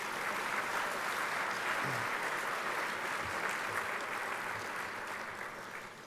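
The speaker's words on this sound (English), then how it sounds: "And this is where you can clap when they stand." A banquet crowd at a chamber of commerce dinner applauds as council members stand, a sustained wash of clapping that stays steady and slowly tapers near the end.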